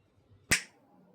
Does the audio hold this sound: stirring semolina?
no